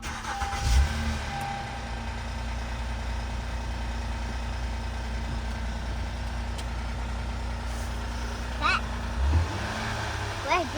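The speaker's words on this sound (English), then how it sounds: "I hear the rattle from the V6, but that's always been there." A 2016 Honda Accord V6 engine idles steadily with a low rumble and a long-standing faint rattle, a couple of brief louder knocks near the start and end, with voices nearby.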